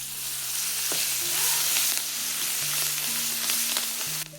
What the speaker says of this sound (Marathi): तर तेल तापल्या आता हळद टाकून घेते आणि मी ह्याच्यात थोडासा गरम मसाला टाकणार आहे तर हे मिरच्या टाकते